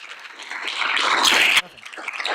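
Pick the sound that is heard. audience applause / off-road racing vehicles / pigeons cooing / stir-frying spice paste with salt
audience applause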